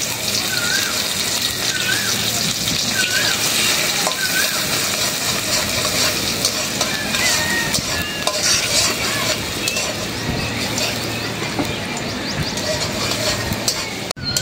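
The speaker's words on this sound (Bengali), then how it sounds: "এখন দিয়ে দিব পেঁয়াজ কুচি" Chopped onion sizzles and hisses steadily in a hot pan, with stirring scrapes and clatter running through the whole stretch, close and continuous, no voices.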